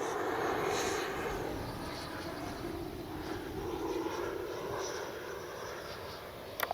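An FMS Avanti S 90mm electric ducted-fan RC jet in flight, a steady rushing whine holding at moderate distance throughout with a faint hiss of wind, no voices.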